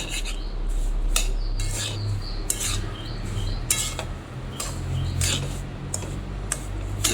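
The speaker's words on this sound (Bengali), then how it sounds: "ঘিটা দিয়ে আমি ভালো করে নেড়ে নেব।" Semolina stirred with ghee in a pan: a metal spoon scrapes and clinks against the pan in repeated, rhythmic strokes, sharp and close, over a low steady hum from the stove.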